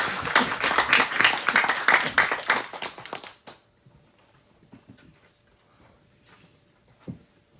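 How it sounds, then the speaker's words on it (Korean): Audience applause at a foundation chairperson's inauguration ceremony, a burst of clapping for about three seconds that cuts off abruptly, followed by near silence with a few faint taps. "박수로"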